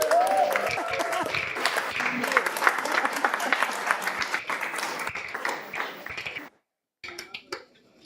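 Crowd at a climate action event gives Fiona a big round of applause, dense clapping with cheers and chatter for about six seconds before it suddenly cuts off, then a few scattered claps and voices.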